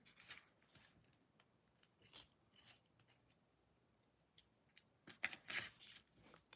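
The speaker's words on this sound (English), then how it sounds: "I'm going to sharpen my pencil again." A colored pencil is sharpened during a coloring and cardmaking class, giving faint, intermittent scraping and grinding bursts, the strongest near the end.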